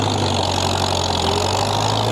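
An antique Farmall tractor engine pulls a Krone hay tedder with a steady, loud, low drone and constant throb that holds an even rumble throughout.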